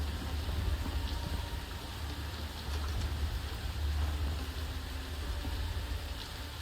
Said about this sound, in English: Ironically rains right in.